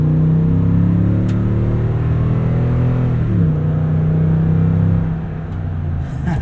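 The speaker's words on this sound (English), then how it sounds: "let's just listen to this V8" A Toyota Tundra TRD Pro 5.7L V8 revs up close and loud, its deep growl climbing, dropping back and settling toward idle near the end.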